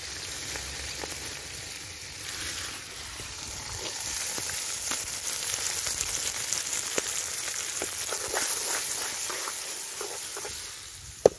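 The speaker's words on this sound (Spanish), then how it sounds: "La cebolla se va a ir salteando" Finely chopped onion sautéing in butter in a pan, a steady bright sizzle with scattered pops and crackles throughout, fairly close and without talk.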